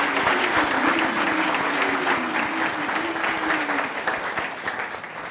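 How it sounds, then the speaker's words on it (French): A crowd at a farewell event for the US ambassador in Côte d'Ivoire applauds loudly, a thick continuous wash of clapping with a few shouts and cheers rising above it, easing slightly toward the end. "On applaudit très très fort."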